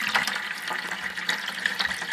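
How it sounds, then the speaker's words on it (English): Water running from a boiler drain valve through a hose into a bucket, a steady close splashing gurgle that fills the whole moment without pause. "So now the water's going into the bucket."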